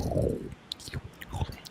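Wet, close-up mouth noises of slurping: a soft gurgling rush followed by a series of small, sticky smacks and clicks at quiet volume.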